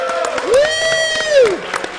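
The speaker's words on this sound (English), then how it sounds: "Round of applause." Applause from a live audience at the end of an anniversary show, steady crowd clapping mixed with cheering and a voice that rises in a long drawn-out whoop.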